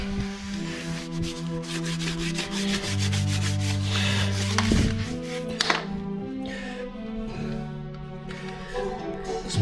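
A rag rubs HartzLain polish into a wooden parquet floor, giving a steady close scrubbing and swishing with rhythmic strokes, over a low tonal hum in the room.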